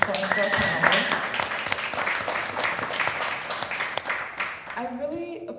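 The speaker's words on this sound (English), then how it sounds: "Let's give another round of applause for our panelists." An audience claps steadily in a sustained round of applause, with a few voices briefly audible over it near the start and end.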